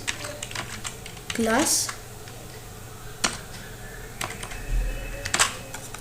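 Computer keyboard typing while writing code in a CSS lesson, scattered clicks and short bursts of keys under a single spoken word, close and fairly quiet.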